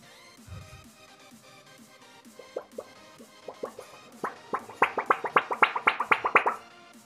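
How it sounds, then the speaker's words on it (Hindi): Iron strip taken from inside a computer keyboard being handled, with sparse metallic taps at first that quicken into a dense run of loud, ringing clinks toward the end. "इसका आप आवाज़ सुन सकते हैं, ये कुछ इस तरह की लोहे की पट्टी है।"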